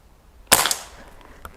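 A single sharp shot from a Seneca Dragonfly MK2 .22 pneumatic pump air rifle, a loud close crack with a short decaying tail, followed by a faint small tap about a second later.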